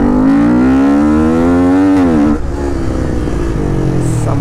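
Kawasaki Ninja Z300 motorcycle engine revving hard on a fast run, a loud rising whine that climbs steadily, dips sharply, then settles into a lower steady drone close by.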